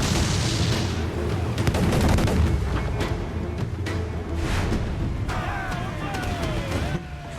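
Ship broadsides firing cannon in Assassin's Creed IV: Black Flag, a dense run of booms and cracks over rumbling battle noise, with faint voices and creaking at sea.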